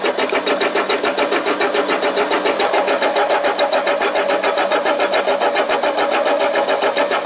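A Harbor Freight 7x10 mini lathe auto-feeds a cut on a 304 stainless steel bolt, giving a steady, close mechanical whir with a fast, even chatter that holds constant throughout.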